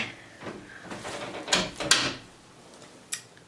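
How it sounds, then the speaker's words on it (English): A door being shut indoors: a few soft scuffs and shuffles lead into two sharp knocks close together, then a quieter click a second later, all fairly faint and near. "Let me just close the door."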